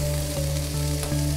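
Scallion, ginger and chili sizzle on low heat in a wok for kung pao chicken, giving a steady close crackle with faint stirring and no talk.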